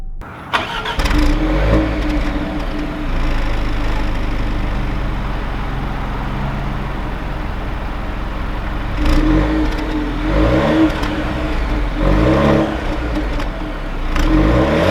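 A 2020 Jaguar XE S pulls away and accelerates, its engine a loud, steady close drone with a low rumble, swelling in a few revving surges toward the end, with no talking.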